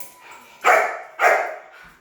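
A puppy barks twice, loud and close, two sharp yaps about half a second apart, with a faint quiet whine around them.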